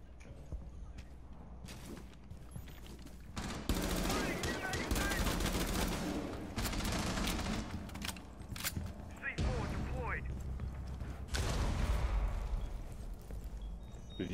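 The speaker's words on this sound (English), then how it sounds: "Did you shoot that window out?" Gunfire in Rainbow Six Siege as a window is shot out, with loud bursts of automatic fire and sharp impacts repeating through most of the stretch, mixed with voices talking over the shooting.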